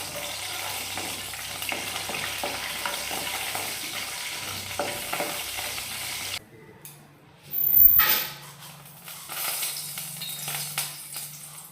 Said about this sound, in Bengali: গ্যাসটা নতুন রেখে বাদামগুলো আগে ভেজে নিই